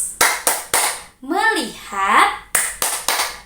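Rhythmic hand clapping from the 'tepuk fokus' classroom clapping game: three sharp claps, a stretch of sung or chanted voice, then three more claps in a steady pattern.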